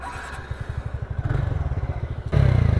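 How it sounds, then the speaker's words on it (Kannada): A TVS Ntorq 125 scooter cranks and fires up, a rapid thumping idle building in strength, then a louder, throatier exhaust burst as the throttle opens near the end, recorded close. "ನೋಡಿ ಸ್ಟಾರ್ಟ್ ಮಾಡಿ ತೋರಿಸ್ತೀನಿ ಗಾಡಿನ."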